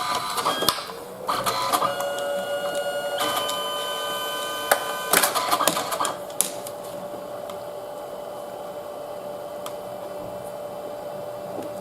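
Canon Selphy compact photo printer printing a photo, a steady motorized whine with a few clicks and clunks of paper feeding near the start, heard close and alone.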